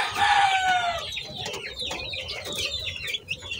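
Ten-day-old chicks peeping in a brooder, a dense flurry of high, overlapping chirps that is loudest at the start and then settles into scattered, softer peeps, with no talking.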